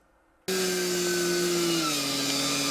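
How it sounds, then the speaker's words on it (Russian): Chainsaws clearing brush in a frozen forest near −50 °C start abruptly after a brief quiet moment and then hold a loud, steady engine whine, its pitch dipping slightly partway through, with no talking. "Морозный воздух за десятки километров разносит звуки бензопил."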